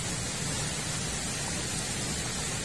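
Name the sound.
strong typhoon wind and rain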